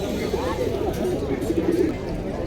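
Pigeons, including a silver one, coo loudly and close by at the Fatullah pigeon market, with soft repeated throaty calls over busy background voices.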